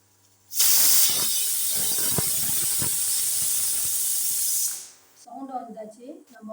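A pressure cooker making peas rice lets out a loud, sustained hissing jet of steam for about four seconds, then cuts off before a voice starts talking.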